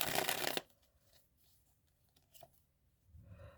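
Tarot cards being shuffled, a brief loud riffle at the start followed by quiet handling and faint soft rustles.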